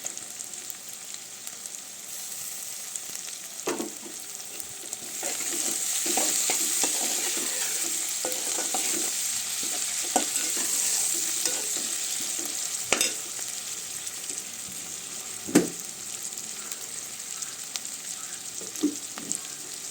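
Curry leaves and tomato pieces sizzling in hot oil for an Andhra-style curry, a steady frying hiss that swells after a few seconds, with occasional stirring knocks and clinks, no speech.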